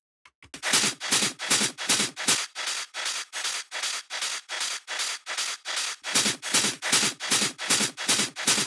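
Two layers of gritty, noise-like hi-hat hits repeat in a steady pattern, harsh and hissy like a shaker, with a low thump underneath part of the time.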